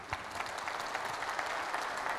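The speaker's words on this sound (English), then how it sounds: "Let's give them a round of applause." Applause from a small audience at a workforce talk at a university, a steady dense patter of clapping that holds even and moderately loud throughout, with no talking over it.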